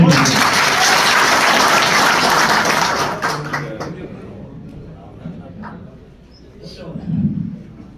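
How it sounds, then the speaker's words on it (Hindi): Crowd applause at a village political rally for a party leader, loud clapping for about three seconds that fades into quieter murmuring and a voice near the end. "एक बार तालियां आफ्ताब भाई के लिए बजा दो"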